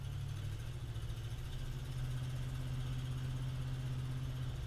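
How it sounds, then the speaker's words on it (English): A car engine runs through a Blowmaster exhaust with a steady, low, droning hum that holds even throughout, and no distinct gear changes stand out. "hopefully you guys can hear the shifts change with the Blowmaster exhaust"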